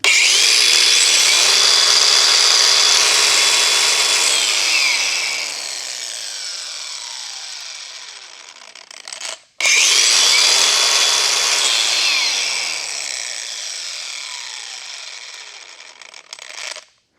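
A DeWalt battery angle grinder runs loud and close with a high whine, then brakes and winds down within a few seconds. It restarts for a second full-speed run and a second quick braking stop.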